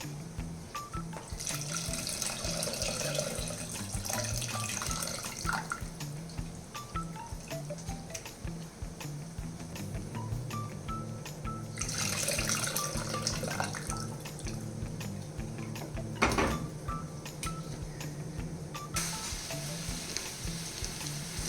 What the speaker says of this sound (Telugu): చింతపండు పులుసు నానబెట్టుకున్నాం కదా ఇందాక, అది బాగా ఇలాగా వేసుకుని ఇలా పోసుకుందాం.